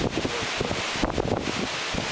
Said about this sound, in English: Sun's trying to come up and the wind's blowing.